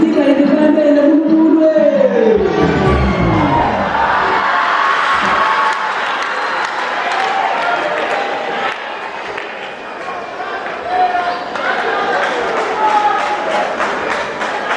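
A crowd at a university cultural exhibition cheers and shouts in loud, sustained acclamation. A voice rises over it at the start, then fades into the broad roar of the audience.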